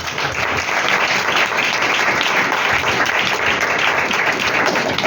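Loud, sustained applause from a church congregation at an Urdu/Hindi sermon, a dense steady wash of clapping filling the whole stretch without pause.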